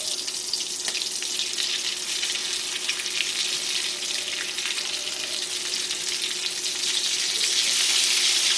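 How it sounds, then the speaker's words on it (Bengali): Egg and potato cutlets deep fry in hot oil over a medium flame, a dense, steady bubbling hiss close by that swells slightly near the end, with no talking. "এগুলোকে আমি ডিপ ব্রাউন করে ভেজে নিচ্ছি"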